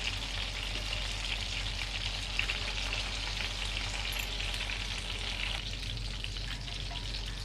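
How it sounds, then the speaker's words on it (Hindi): Raw minced-meat kebabs fry in oil as they are turned side to side, giving a continuous, even crackling sizzle with a low steady hum beneath it and no talking. "इसी तरह आपने साइड चेंज कर करके इसको फ्राई कर लेना है।"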